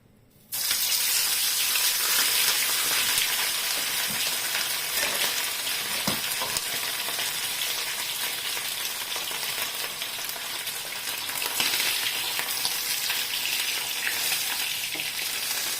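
Fish frying Filipino escabeche-style in hot oil under a lid, a loud, dense, continuous sizzle and spatter close by, steady for the whole stretch with no talking.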